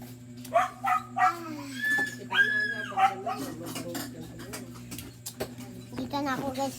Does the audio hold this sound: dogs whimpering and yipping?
yes